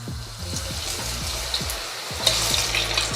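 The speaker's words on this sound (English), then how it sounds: "And now I can pop them into the oil." Parboiled homemade tater tots drop into hot oil and fry with a steady close bubbling hiss, a few sharper spatters and crackles rising near the end, no voices.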